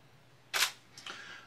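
Two crisp shutter clicks come from a DSLR camera fitted with a macro lens, the first sharper and the second about half a second later, close and isolated in a quiet room.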